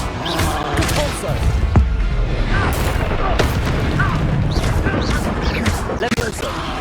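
A Repulso spell bursts amid a rapid chain of combat spells in Hogwarts Legacy, with loud booms and crashes layered over shouted incantations and constant battle noise.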